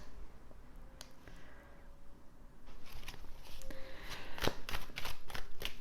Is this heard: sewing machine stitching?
no